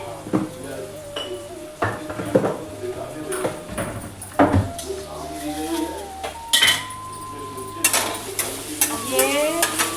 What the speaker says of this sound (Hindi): चला रहे हम मसाले